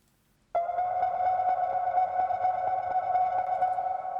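A sustained synth shot with a sharp attack, a pitch bend at the start and heavy reverb, ringing as a bright, steady tone that holds for several seconds after a moment of silence.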